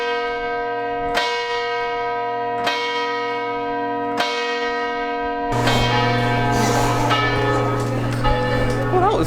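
Church bells in Venice ring from inside the bell tower, several loud, resonant strikes spaced about every second and a half, then a fuller clanging peal as more bells join and sustain with long ringing overtones.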